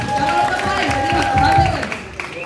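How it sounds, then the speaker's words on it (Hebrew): Studio audience applause after a performance, a dense wash of clapping that holds steady for about two seconds over a faint sustained musical tone before thinning out. "כפיים!"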